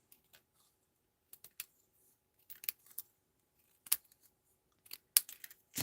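Scissors snip through card during cardmaking, giving scattered, quiet, crisp cuts in short irregular bursts separated by silence.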